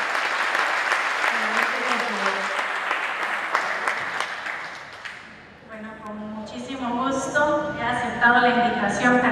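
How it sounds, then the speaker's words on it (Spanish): An audience applauds for a singer's mother at a small live music event in Tilarán, the clapping dense and steady for several seconds, then thinning out as a voice begins to sing or speak over it. "Yo quiero pedir un aplauso,"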